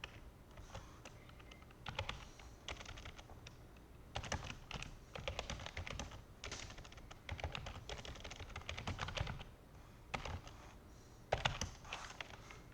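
Rapid typing on a computer keyboard, with bursts of close key clicks separated by short pauses, no talk over it.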